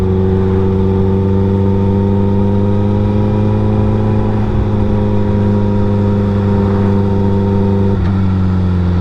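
Steady car engine drone while driving, a continuous mid-pitched hum with layered harmonic tones that shift slightly around a gear change, close and loud throughout with no talking.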